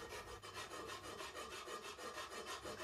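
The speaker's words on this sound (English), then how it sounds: "I'm using a coarse, single-cut file, which is just perfect for cast aluminium." A coarse single-cut file rasps across a cast aluminium crankcase for a Kawasaki S1 four-cylinder build, making steady rhythmic back-and-forth scraping strokes, close and alone with no talk.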